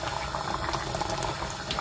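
A pot of Bangladeshi tomato tenga curry simmers steadily, giving a continuous soft bubbling and popping with no talk.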